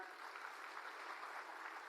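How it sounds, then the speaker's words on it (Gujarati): Faint, distant applause from a crowd for Arvind Kejriwal at a political gathering in Gujarat, a steady even patter of clapping throughout. "એકવાર તાળીઓ થઈ જાય"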